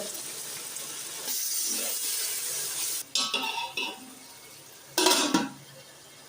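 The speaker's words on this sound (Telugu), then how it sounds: "కలుపుతున్నాము ఇప్పుడు చేపలు కూడా వేసేస్తున్నాము" Korameenu fish curry is stirred in a cooking pot, with a faint kitchen hiss like running water and two short bursts of metal clinking and scraping against the pot.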